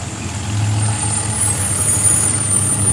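A bus idles close by with a loud, steady low engine rumble, holding a constant drone without talk.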